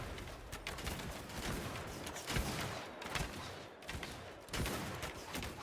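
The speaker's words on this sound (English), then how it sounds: "We're going to exchange some ranged fire with these guys." Musket volleys crackle in the Bannerlord Shokuho game, a few distinct fusillade bursts rising over a constant din of battle, moderately distant and fairly quiet.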